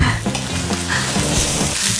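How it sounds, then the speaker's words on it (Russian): Fresh spinach sizzles and crackles in a hot pan while being stirred, a steady close frying hiss broken by soft scraping strokes. "Как долго шпинат должен жариться?"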